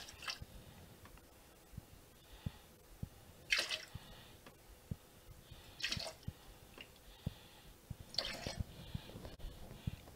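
Pineapple juice poured for a Painkiller cocktail gives three brief splashy gushes at about 3.5, 6 and 8.5 seconds, with faint dripping and small clinks between them, fairly quiet and close.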